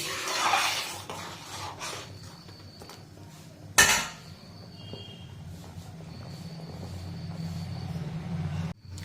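A lid is set onto a cooking pot in a home village kitchen where pulao and meat are being made: one sharp metallic clank midway, close and brief, over a low steady background hum.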